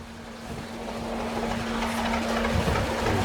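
A narrowboat engine drones steadily at low pitch with a constant hum, water and wind noise washing over it on a canal, no talking.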